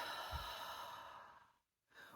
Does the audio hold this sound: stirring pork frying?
no